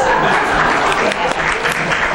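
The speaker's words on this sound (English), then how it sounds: "I'm applauding myself." Applause from a group during an inspirational talk, a loud, continuous patter of clapping that fills the short moment close and steady, with a voice faintly underneath.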